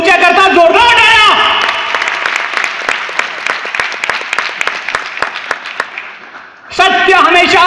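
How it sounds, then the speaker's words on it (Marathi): An audience at a felicitation event breaks into strong, sustained applause of crisp, rapid claps lasting several seconds, with loud speech before it and again after it. "तुमच्याकरता जोरदार टाळ्या"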